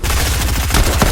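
Rapid gunfire in Fortnite Chapter 2 Season 2: a loud, dense burst of shots that pulses continuously through the brief moment, close and overwhelming.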